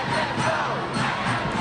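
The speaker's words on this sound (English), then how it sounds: "now the crowd is chanting, let them go" A large protest crowd on a campus chants a repeated slogan, a dense, loud roar of many voices with rhythmic swells, heard at a distance with no single voice standing out.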